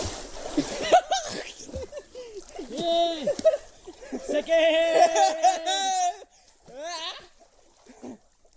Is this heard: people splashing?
yes